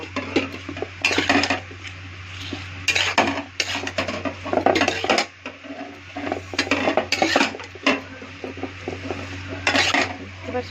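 Chicken being mixed with oil in a bowl, with repeated close clinks and scrapes of a utensil against the dish in irregular bursts.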